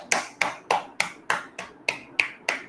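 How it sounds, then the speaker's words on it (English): A senior kindergarten class claps together in a slow, even rhythm, about nine sharp, close claps spaced evenly apart with no talking. "give a big round of clap"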